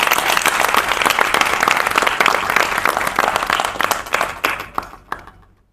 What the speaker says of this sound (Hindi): बहुत जोरदार ताली।